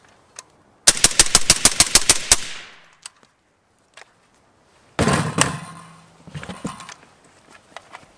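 A suppressed rifle fitted with a K-Spec bolt carrier group fires a rapid string of ten rounds, sharp evenly spaced cracks in under two seconds, followed by a few scattered clanks and handling noises.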